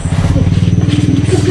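Motorcycle engine idling or revving with a rapid, regular throb, loud and close, over a short burst.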